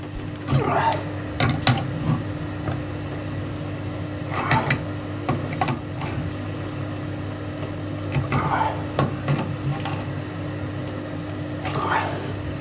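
Fittings on a central heating system filter on the primary return pipe are tightened, producing repeated bursts of metallic clicks and scrapes over a steady low hum, close by.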